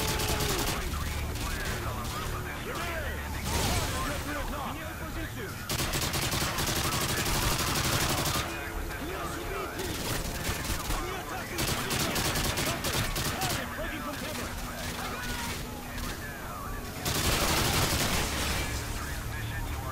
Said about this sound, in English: Trying to shoot through a wall.